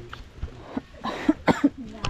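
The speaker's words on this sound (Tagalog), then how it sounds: "Ako'y ubong-ubo pa." A person coughs several times in quick, close bursts, the rough coughs mixed with a little vocal noise and throat sounds.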